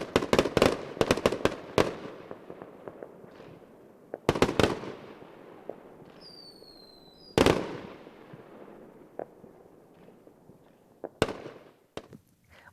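Fireworks explode in scattered bursts of sharp cracks and crackling pops, some in quick clusters and others spaced apart, with a brief whistle in between. The blasts sound fairly near and stand alone with no talking.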